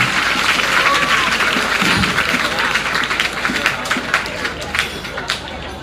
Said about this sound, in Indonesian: Tepuk tangan untuk salah satu teman kita